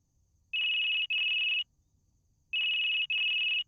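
A telephone rings in the video game Necrobarista: two pairs of bright, electronic double rings, each burst about half a second long, separated by a pause of near silence.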